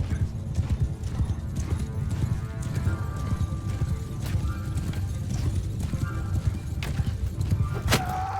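Horse hooves galloping in the medieval combat game Mount & Blade II Bannerlord, a rapid continuous clip-clop with an occasional whinny, with sharp weapon hits and battle clatter around it.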